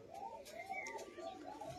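Rajshahi high-flying Giribaz pigeons coo softly in a loft, a series of low, rolling calls repeating in an uneven rhythm at a fairly faint, nearby level.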